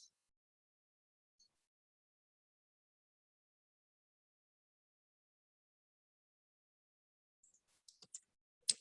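A few quiet computer mouse clicks arrive in a short cluster near the end, after a long, nearly silent stretch.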